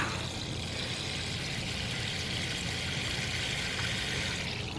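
Water pours steadily from a watering can onto the soil at the base of tomato plants growing in containers, a continuous close hiss and splash with no pauses.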